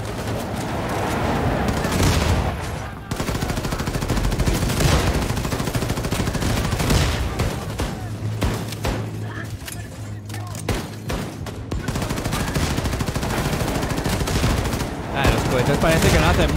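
Rapid, loud rocket fire in Wolfenstein II, with dense bursts of blasts and explosions rolling nearly continuously, close and heavy.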